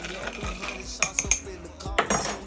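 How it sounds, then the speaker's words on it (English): A spoon quickly stirs a glass of Wray & Nephew rum and Ting grapefruit soda, giving a quiet run of metallic clinks and scrapes with a few sharper taps near the middle. "We're gonna give that the good old quick stirry stir."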